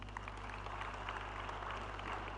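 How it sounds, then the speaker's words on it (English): Audience applause fills a conference plenary hall at a landscapes forum in Accra, a steady, dense wash of clapping from a large crowd that holds at even loudness throughout, with no voices over it. "Please give him a round of applause one more time."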